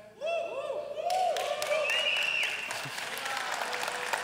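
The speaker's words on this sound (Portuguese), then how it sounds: "Então vamos dar um aplauso ao BeWeb." An audience bursts into sustained applause that swells quickly and carries on steadily, dense and full, with a voice speaking over the start.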